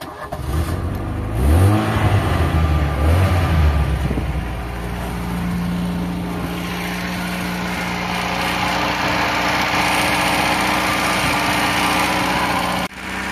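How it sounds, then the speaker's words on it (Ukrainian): A car engine that has been fully rebuilt cranks with a few rhythmic whirring turns, then fires and settles into a steady, even idle, heard close up with no voices. "Ну і пробую заводити автомобіль."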